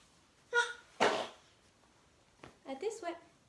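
A baby's small sneeze bursts out sharply during a babywearing wrap demonstration, a single brief burst set between soft adult speech, fairly close and quiet.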